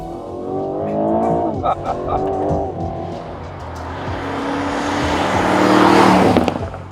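A 2025 Aston Martin Vantage's 665hp front-mounted engine revs and climbs through the gears, heard from inside the car, its roar building to a loud, rasping peak with tire noise underneath.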